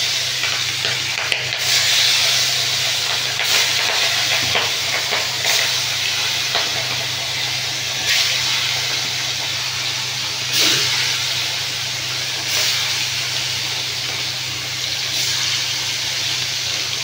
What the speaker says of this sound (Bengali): এইভাবে আমি একে একে মাছগুলো ভেজে নেব।